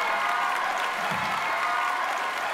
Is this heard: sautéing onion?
no